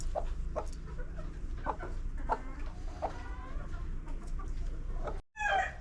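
A hen settled on her eggs in a laying room clucks in soft, repeated low calls at close range, with a continuous rumble of background noise and a brief dropout near the end.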